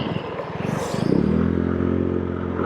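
A TVS NTorq 150 scooter in race mode pulling away hard, with a short rattly idle giving way to a rising, loud engine note as it accelerates.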